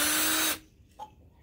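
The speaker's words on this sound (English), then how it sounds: "I'm not all the way through, and my drill bit is slipping." A power drill whines loudly while boring drainage holes in a plant pot, then stops abruptly after about half a second, leaving a quieter room with a faint brief tap.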